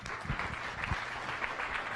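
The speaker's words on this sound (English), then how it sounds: "let's give him one more round of applause" A live audience at a science café event applauds the speaker, a dense, steady burst of many hands clapping filling the room for a couple of seconds, with no talking over it.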